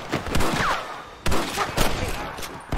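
Gunfire in the Western video game Red Dead Redemption during a shootout with cattle rustlers, with sharp shots repeating across a loud, busy scene and several heavy reports near the end.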